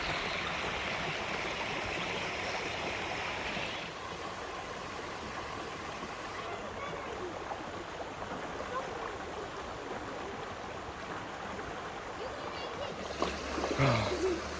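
Water in a small creek flows and gurgles steadily nearby, a continuous close babble that runs for the whole stretch with a brief splash and louder rustle at the end.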